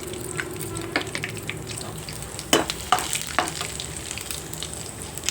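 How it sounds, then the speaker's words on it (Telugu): Cumin seeds fry lightly in a pan for a cashew and radish masala curry, giving a steady close sizzle with a few sharp crackles and stirring scrapes, and no voices. "పచ్చివాసన పోయిందాకా లైట్గా వేయించుకుందాం. అలాగే జీలకర్ర కూడా వేసుకుందాం."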